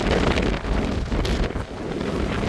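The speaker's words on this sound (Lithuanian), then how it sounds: "Vėjas didžiulis." Strong gusting wind buffets the microphone at a hilltop castle tower in San Marino, a loud continuous low rumble and roar with no voices.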